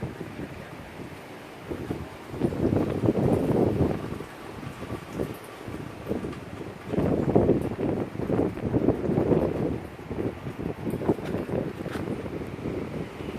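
Strong wind from an approaching tornado in Albany buffets the microphone in heavy, surging gusts, with a roaring low rumble that swells and fades over the open air.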